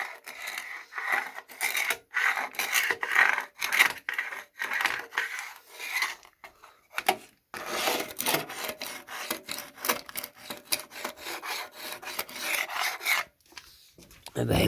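Hard plastic scraping against a surface in continuous rough, rasping strokes with brief pauses, close and fairly quiet, no talking.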